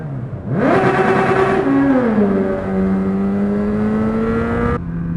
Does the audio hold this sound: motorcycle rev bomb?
yes